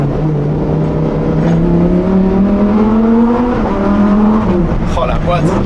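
Lamborghini Huracan STO engine revving hard and rising in pitch through successive gear shifts, loud and close, a brief dip at each shift before climbing again.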